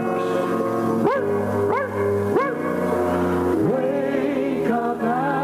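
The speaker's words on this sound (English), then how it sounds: "3 loud barks." Three loud barks from a dog, evenly spaced, rising sharply over a sustained musical backing with a trumpet call at a live radio variety show.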